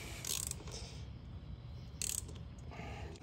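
A ratchet wrench with a swivel joint loosens a bolt, giving two bursts of quick metallic clicking over a low mechanical rumble, close and fairly faint, with no speech.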